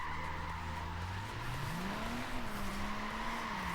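Car tires skid continuously through a drift in the Forza Horizon 4 racing game, a steady squealing screech over a droning engine whose pitch swoops up and settles, loud and alone with no voices.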